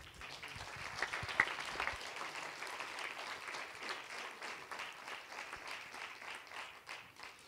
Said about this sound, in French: On applaudit Christophe.